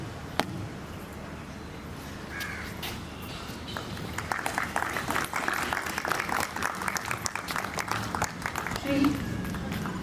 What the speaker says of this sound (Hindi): तालियों के साथ स्वागत, श्री आरबी पटनी, आप तैयार हैं, प्लीज पधारिए।